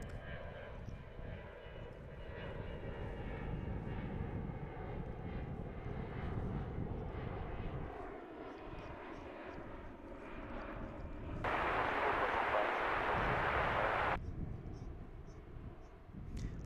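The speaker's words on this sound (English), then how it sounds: "So next departure, Frontier A321," A Frontier Airbus A321 jet departing DFW airport, a broad distant engine roar swelling steadily, with a louder burst of rushing noise near the end over faint background sounds.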